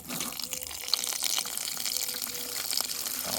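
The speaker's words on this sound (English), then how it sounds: "Fill up this old plant pot with water." Water gushes from a tap or hose into an old plant pot in a garden, a steady close hiss and splash with no break.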